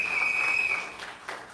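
Audience applause at a UNC political gathering in Trinidad, with guests from the Tunapuna constituency, a broad steady clatter of clapping that thins out toward the end, a sustained tone running through the first half.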